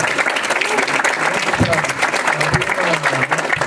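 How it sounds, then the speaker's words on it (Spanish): A university audience claps in sustained applause throughout, with a voice speaking over the clapping. "le ratificamos a la comunidad universitaria un fuerte aplauso a la doctora Sara Pérez."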